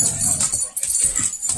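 Dogs whimpering and jostling in a messy house, close and fairly loud in a short burst of yips and rustling, with faint jingling like tags or keys.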